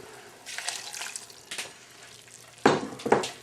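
Ramen soup with broccoli spread around a hot pan sizzles and bubbles in several close, loud bursts of hissing stirring, with quieter frying between them.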